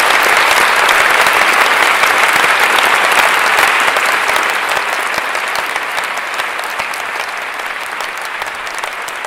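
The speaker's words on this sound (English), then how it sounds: "Round of applause for them a second." An audience at the CHI 2023 conference closing keynote applauds, dense sustained clapping from a large crowd that holds strong and then gradually tapers in loudness.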